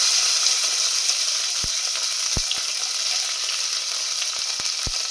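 Cut garlic and onion fry in hot oil for a Tamil garlic tamarind curry, giving a steady loud sizzle broken by a few sharp clicks of a utensil against the pan.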